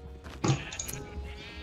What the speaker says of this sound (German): Das waren Schafe